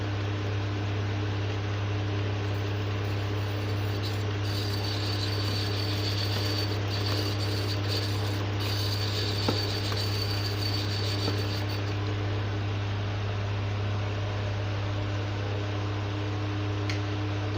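UPS transformer running with a steady, loud low mains hum and a faint buzzing whine on top, continuous and unchanging in a quiet darkened room.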